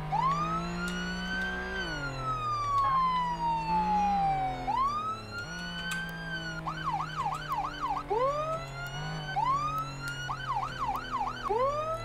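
A police car siren in the Flashing Lights video game, on a Tennessee highway patrol car, wails in long rising and falling sweeps that switch to fast yelping, loud and continuous with an engine drone beneath.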